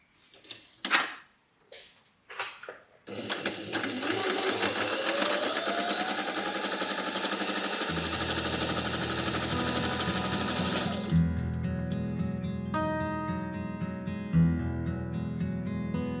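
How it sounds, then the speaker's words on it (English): A sewing machine stitches robe fabric pieces together. A few soft handling thumps come first, then a loud continuous whirring run that slows and changes into a lower, steady mechanical drone with periodic knocks. "And then I'm going to stitch these together and understitch it."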